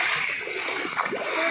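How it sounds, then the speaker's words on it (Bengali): Floodwater rushing in a strong current along a rain-flooded street in Baruipur, a steady, close, broadband wash of churning water that runs without a break. "জল প্রচণ্ড স্রোতে"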